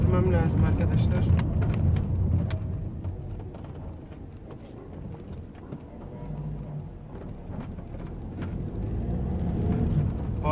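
Car in a video game driving over bumps at varying speeds, a low engine rumble with repeated thumps and clatters, partly under talk.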